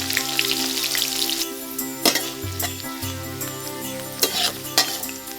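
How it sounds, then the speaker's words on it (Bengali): Garlic cloves, chopped onion, bay leaf and five-spice seeds sizzle in hot oil, a steady crackling fry with sharper bursts as they are stirred, close and alone. "বাগার দেওয়ার জন্য গরম তেলে এখন ভাজতে হবে রসুনের কোয়া, পেঁয়াজের কুচি, তেজপাতা আর পাঁচফোড়ন মশলা"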